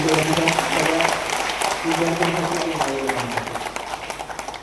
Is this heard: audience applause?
yes